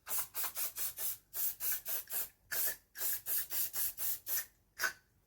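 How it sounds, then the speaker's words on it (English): An aerosol spray coating is applied over a drawing in about fifteen short, evenly spaced hissing bursts, close and fairly quiet, with brief pauses between them and no speech. "press the nozzle firmly, holding 25 to 30 centimetres from the drawing. Spray a light, even coating."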